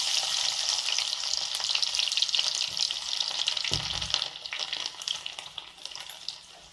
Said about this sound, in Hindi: और अब इसके बाद हम इसमें बारीक कटा हुआ लहसुन डालते हैं।